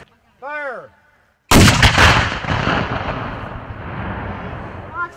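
A Civil War era gun fires at a fort tour with a single loud, close blast that rolls out into a long echoing decay, preceded by a short shouted command.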